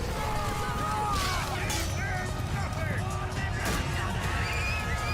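Horse in a video game whinnying loudly amid galloping hooves and battle noise, with a voice speaking over the scene.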